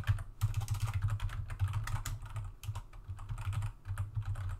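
Close, fast typing on a computer keyboard while writing C code, a dense run of clicking keystrokes in quick bursts with brief pauses between.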